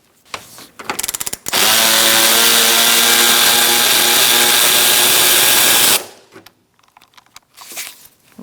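A power tool zips out a starter bolt on a 2002-2006 Honda CR-V, a few short clicking bursts before a loud sustained whirring run of about four seconds, then ratchety clatter afterward.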